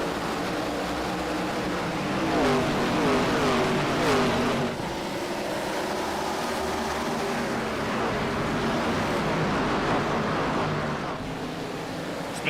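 A pack of race car engines roaring at a restart at Bristol Motor Speedway in the iRacing video game, a dense rising drone of many cars accelerating together, loud and continuous, with a commentator talking over it.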